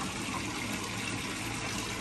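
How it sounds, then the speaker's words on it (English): A patio water feature at a new home in Las Vegas runs steadily, a continuous splashing gush of falling water that holds an even, moderate level throughout with no voices. "Enjoy that nice water feature."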